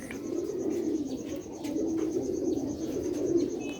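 Flock of Sialkoti pearl-spotted pigeons cooing close by in a steady, continuous low murmur of overlapping coos, with no talking.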